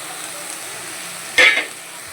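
Spice mix of coriander, cumin, turmeric, salt and Kashmiri chili powder frying in oil for an egg and pointed gourd curry, a steady faint sizzle with one brief louder stir or scrape in the pan.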